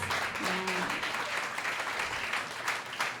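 Guests at a banquet applaud in a hall, giving a steady, moderately quiet wash of clapping with a brief tonal sound near the start.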